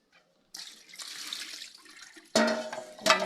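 Tap water runs into a sink as eggplants are rinsed one by one, a close hissing stream starting after a short silence and swelling louder in bursts near the end.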